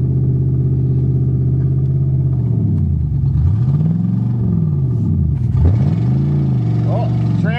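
An old Mercury Marquis engine rumbles and revs while driving, its pitch rising and falling with gear changes, the transmission slipping and low on fluid, loud and close throughout.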